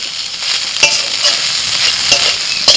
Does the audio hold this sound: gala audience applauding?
no